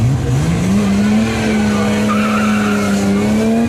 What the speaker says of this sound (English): And onto the line comes this really interesting Alta Grand Prix car.